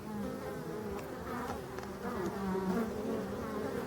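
Hornets buzz near beehives in an autumn forest, a steady, moderately close drone with a few louder passes of individual insects weaving through.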